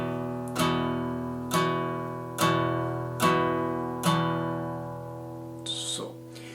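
Five evenly spaced half-stroke guitar strums ring out one after another, each chord decaying before the next, followed by a brief soft scratch of strings.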